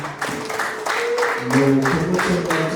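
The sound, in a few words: applause and ululation at a Rwandan wedding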